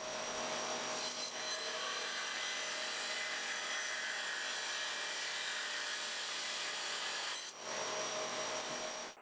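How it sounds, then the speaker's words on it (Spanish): A band saw slices through a glued wooden cutting board blank in one steady, continuous, loud run, its whirring hiss holding for about seven seconds before briefly dipping and then resuming. "llevé todo a la sierra de banda para empezar a hacer un poco de aserrín"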